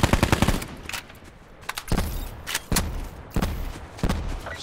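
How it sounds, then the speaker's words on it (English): Gunfire in Call of Duty Black Ops 4 Blackout, a rapid burst of automatic shots followed by several spaced single cracks, loud and close. "I'm shooting at them"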